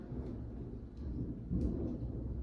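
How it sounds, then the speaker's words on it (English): Low thunder rumbles from a storm outside, a steady muffled roll that swells slightly partway through, heard faintly from indoors with a soft hiss of rain-like noise beneath it. "Ooh, it's lightning outside."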